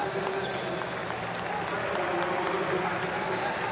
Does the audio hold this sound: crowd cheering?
yes